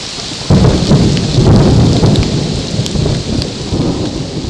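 A thunderstorm with steady rain on surfaces, a deep rumble of thunder rolling in after a brief quiet moment and lingering under the constant patter.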